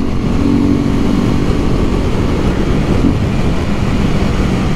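A Honda CB 300F Twister motorcycle running without its air filter gives a loud, steady engine drone close by, a continuous rumbling roar with no clear revs or breaks and no voices.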